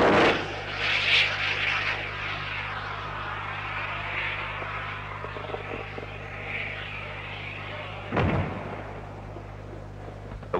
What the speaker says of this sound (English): The lightweight anti-tank 130-millimeter guided missile, known as the INTAC.